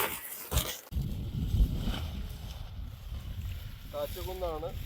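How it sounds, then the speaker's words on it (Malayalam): Gusty wind buffets the microphone in a steady roar on Banasura hill in Wayanad while a tent is pitched, with rustling and handling noise, and a voice briefly speaking near the end. "കാറ്റുകുന്നാണ് നല്ല കാറ്റുണ്ട്"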